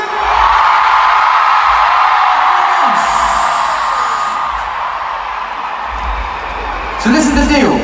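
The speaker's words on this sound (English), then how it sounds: "So on the count of three, please give me your loudest scream." A packed stadium concert crowd at Vienna's Ernst-Happel-Stadion, during a show, screams loudly and continuously, a dense roaring wall of voices lasting the whole stretch.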